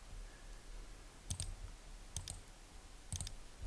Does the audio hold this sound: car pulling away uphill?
no